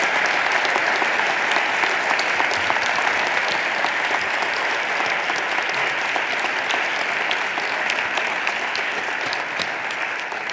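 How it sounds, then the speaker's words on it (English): A church audience in Denver applauds its guests with sustained, even clapping that holds steady for around ten seconds, a warm, moderately distant wash of many hands with no voices rising above it. "another round of applause for all of our guests tonight"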